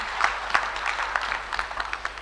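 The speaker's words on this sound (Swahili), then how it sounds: "Makofi hayo hayatoshi" A small group applauds at a national conference of secondary school heads, a brief ragged burst of separate claps, moderately close, with no voices over it.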